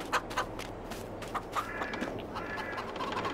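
Chickens cluck in the game Farming Simulator 22, a cluster of short, soft clucks and scattered calls from a flock, faint and spread over the clip with no talking.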